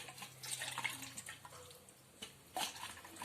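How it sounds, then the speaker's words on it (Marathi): Pressure-cooked jackfruit drains through a sieve, a quiet, soft trickle of water with a few faint splashes and drips, heard alone. "आता हे आपण असं चाळणीमधून गाळून घ्यायचं आहे।"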